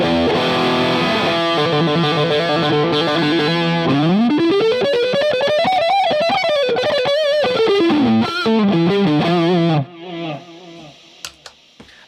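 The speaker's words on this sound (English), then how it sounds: "Let's add some overdrive from the Strymon Riverside, set at moderate gain." Electric guitar through a Friedman BE-Mini amp head with a Strymon Riverside overdrive at moderate gain, playing loud distorted chords and then a bending, sustained lead line, ending in a few sparse picked notes as the sound drops away.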